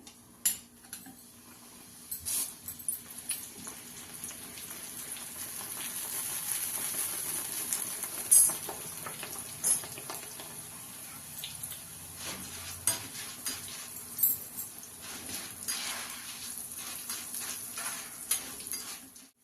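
Poha (flattened rice) frying in hot oil for a crispy mixture, a steady soft sizzle with scattered scraping and clinks of a slotted spoon against the pan, fairly quiet and close.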